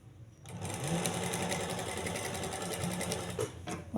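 A sewing machine runs steadily as it stitches a seam in trouser fabric, a near, continuous mechanical whir lasting several seconds after a brief quiet start.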